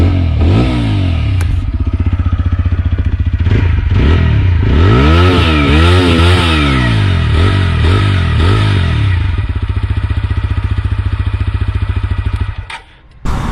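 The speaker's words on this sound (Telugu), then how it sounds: "ఒకసారి మీరు ఎగ్జాస్ట్ నోట్ అయితే వినండి" A TVS Apache RTR 160 4V motorcycle idles loudly up close, then revs several times in quick rising and falling sweeps before settling back to a steady idle and cutting off at the end.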